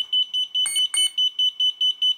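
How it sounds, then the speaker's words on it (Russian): Rapid electronic beeping from a drone's electronic speed controller on power-up, repeating steadily at a high pitch, with a couple of brief distinct tones cutting in near the middle; close and clear, no voices. "Вот он два раза пикнул"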